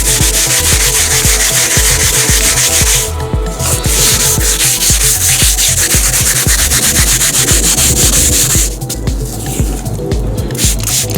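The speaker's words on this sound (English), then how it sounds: "I'm going every which way with the sandpaper in most specific directions." Dollar-store sandpaper rubs back and forth by hand in rapid, rhythmic scratchy strokes, loud and close, with a couple of brief pauses between bursts of sanding.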